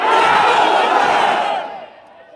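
A large political rally crowd roars back a Nara-e-Takbir slogan in unison, a loud, dense wash of voices that swells for about a second and a half, then fades into a softer murmur.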